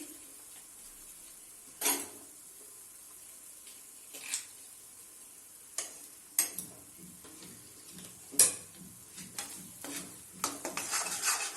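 Spoon stirring paneer butter masala in a pan after kasuri methi and butter go in, with soft scraping and scattered clinks against the metal, gentle and intermittent with quiet gaps between strokes.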